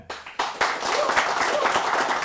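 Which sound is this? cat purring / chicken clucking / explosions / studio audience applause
studio audience applause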